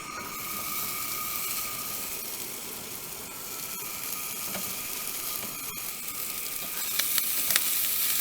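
Brisket pieces frying in batches at a camp cook until crispy give a steady, close sizzle throughout, with a few scraping stirs and clicks toward the end.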